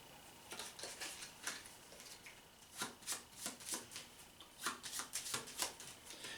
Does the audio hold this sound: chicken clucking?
no